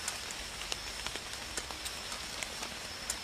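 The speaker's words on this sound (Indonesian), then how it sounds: "Hujannya nggak terlalu deras, cuma rintik-rintik" Light drizzling rain patters faintly and steadily, with scattered soft drop ticks over a quiet background hiss.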